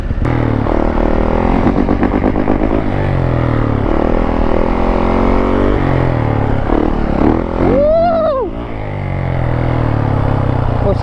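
A Yamaha YZ450F dirt bike accelerates hard in second gear, shift locked. Its loud, close engine roars throughout, and the pitch sweeps up and back down near the end.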